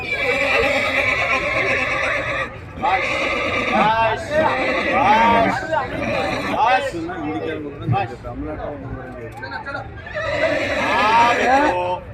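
Marwari mares neigh repeatedly during an open-mare beauty contest at the Agni Horse Show 2024, loud close whinnies rising and falling over crowd chatter, with occasional hoof clops.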